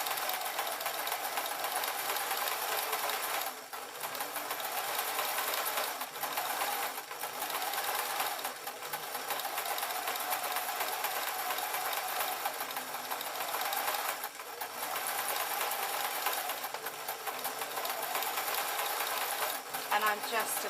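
A sewing machine runs steadily, stitching a faked rolled hem around the edge of an old-fashioned mop hat, a continuous close mechanical whir with a few brief pauses as the fabric is turned.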